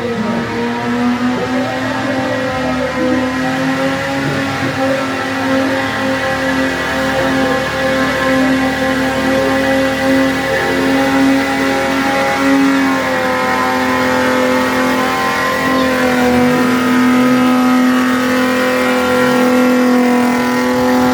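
Drift cars at a motorsport event in Kakamega County, Kenya, roar with steady, loud revving engines that hold sustained tones and shift in pitch partway through, continuous throughout with no talk.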